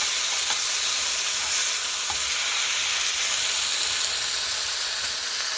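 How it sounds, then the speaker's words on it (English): Hamburger meat sizzles in a pan while cooking for tacos, a steady bright crackling hiss with small pops. It runs unbroken and close, with no talk over it. "That hamburger meat cooking down with it too"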